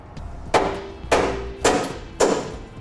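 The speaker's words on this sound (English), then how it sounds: "hold the bumper while we tap out the bolts" Four evenly spaced metallic hammer blows tap out the rear bumper bolts on a 1986 Chevrolet C/K truck, each a close, ringing thud in a steady rhythm.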